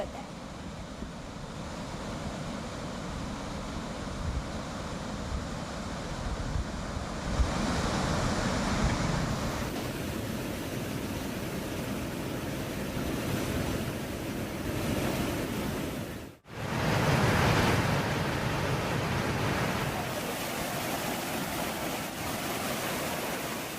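Waterfalls pour from an overflowing dam in the lush green Bhandardara area, a steady, dense roar of rushing water close by with wind noise and a brief dropout partway through.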